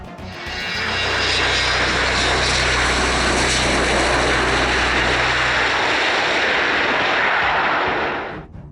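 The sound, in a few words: Boeing 757 jet taking off down the runway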